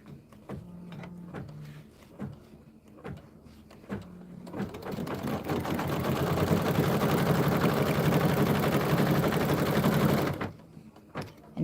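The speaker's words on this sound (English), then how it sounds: "we're just going to stitch a line straight across to hold that in place" Sewing machine stitching a straight line across a fabric mug rug, a steady loud whir running for about six seconds, preceded and followed by soft handling clicks and thumps.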